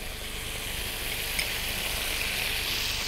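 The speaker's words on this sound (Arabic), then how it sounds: "هنزل في الووك هنا الجمبري" Shrimp with minced garlic frying in oil in a wok, giving a steady, loud, even sizzle that holds for the whole stretch with no talking.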